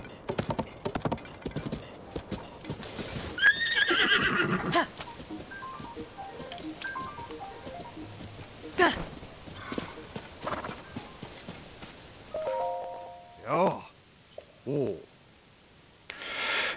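A horse in a Wild West video game clip-clops along in a brisk, steady rhythm of nearby hoofbeats, with a few short whinny-like calls and sparse game sounds later on.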